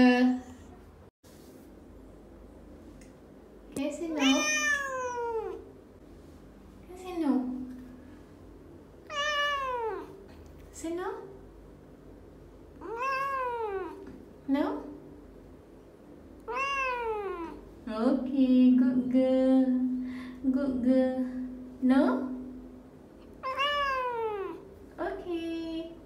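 A female cat meows repeatedly in drawn-out, rising and falling calls, close and fairly loud, as if answering back, with short pauses between meows over a low steady background hum.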